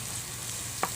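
Corned beef sautéing with beetroot in a pan, a steady close sizzle with a single brief scrape of a utensil near the end; no voices.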